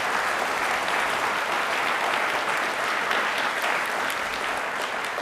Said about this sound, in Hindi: प्लीज एक बार जोरदार तालियां वापस से हो जाएं।